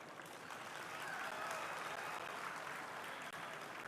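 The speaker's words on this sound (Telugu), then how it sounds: "మనం ఎక్కువ చప్పట్లు కొట్టాలి" Steady applause from a large audience at a national cultural festival, a continuous wash of clapping held at an even level across the whole stretch.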